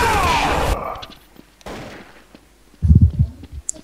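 Gunfire in Counter-Strike: Source aimed at crates, a burst of sharp loud shots at the start, a single crack a moment later, then a cluster of heavy close impacts near the end, with no talking.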